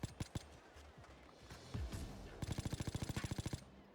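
Gunfire in the heist shooter Payday 2, with scattered single shots that give way to a rapid, even burst of automatic fire, moderately close and with no talk over it.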